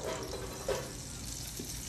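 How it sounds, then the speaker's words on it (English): Butter and olive oil sizzling in a cast iron skillet while cheesy stuffed chicken breast cooks, a faint steady hiss with a small pop. "Can y'all hear that sizzle?"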